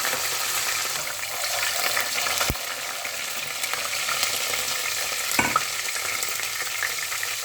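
Mustard seeds and soaked fenugreek fry in hot sesame oil, a steady close sizzle and crackle that runs throughout, with a couple of sharp knocks from a utensil.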